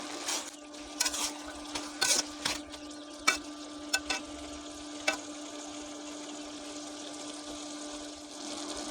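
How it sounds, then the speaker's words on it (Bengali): A Bengali cabbage curry gets stirred in a frying pan, with a low sizzle beneath a scattering of sharp spoon scrapes and clacks against the pan, close by and fairly quiet, with no voices. "আমি আবারও ভালো করে নেড়ে দিলাম"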